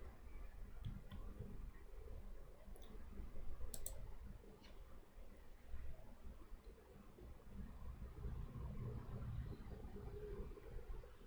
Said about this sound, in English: And click on launch instance.